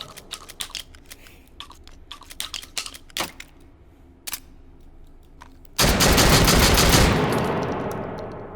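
A shotgun fires once in the VR shooting game H3VR, a loud blast that trails off over about a second, preceded by scattered mechanical clicks and clacks of shells being loaded into the gun.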